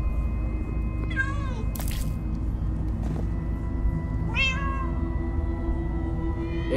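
Cats meow twice in the video game Minecraft: Story Mode, over a steady low rumbling game ambience, with a short sharp noise between the meows.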